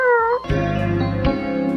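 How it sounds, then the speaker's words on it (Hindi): A rescued cat meows clearly and close by, a single drawn-out cry followed by a sustained tonal wail, alone without any talk. "शीरो ने इस बिल्ली को बचाया है।"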